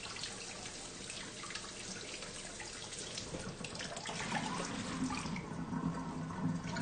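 Tap water running steadily into a sink while mushrooms are rinsed, a constant close splashing rush that grows a little fuller and more gurgling partway through.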